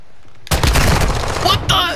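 A full-auto pistol fires in Call of Duty: Modern Warfare II as one loud, rapid burst of shots lasting about a second, then a short pause and another crack, with a player's voice in the background.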